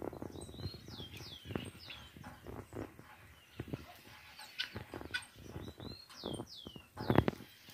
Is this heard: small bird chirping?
yes